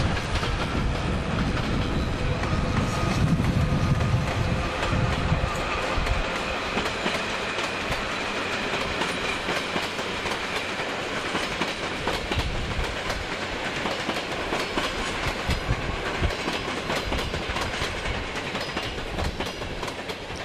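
An Intercity train rumbles and clatters as it pulls away from Sittard station, wheels clicking steadily on the rails in a long, continuous roar with no talking.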